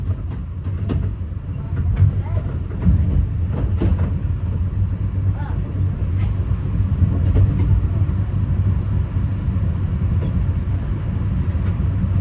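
A Metra commuter train rides out of Chicago Union Station, a steady low rumble of wheels on rails with faint clicks and rattles heard from inside the car.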